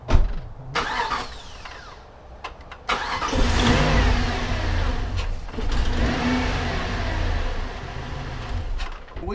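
Jeep engine cranking and catching on a Foxpeed jump starter with no battery connected, a short crank followed by the engine firing into a steady, fairly loud idle that runs on to the end, close by.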